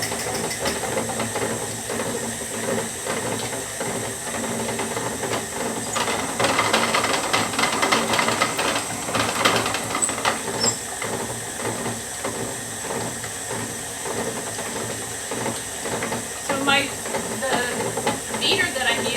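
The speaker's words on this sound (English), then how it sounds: "The beater that I'm using on here is a paddle with the spatulas attached to it." A stand mixer turns a paddle beater fitted with spatula edges through buttercream icing, giving a steady close mechanical whir and rattling churn that runs unbroken from start to finish with no talking.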